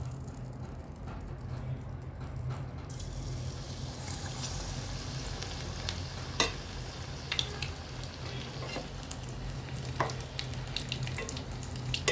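Batter-dipped egg bajji hits hot coconut oil and sizzles steadily at a low, even level, with occasional small pops and crackles over the frying hiss.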